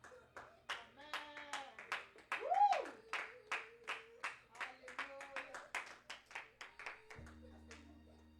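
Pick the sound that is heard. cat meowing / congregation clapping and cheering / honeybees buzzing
congregation clapping and cheering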